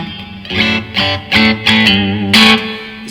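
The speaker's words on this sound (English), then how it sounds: "is more like the American clean" An electric guitar plays a clean American-style tone through a Blackstar HT20 Mk2 valve amp with reverb, a short phrase of distinct strummed chords and notes that ring and decay, loud and close with no talking.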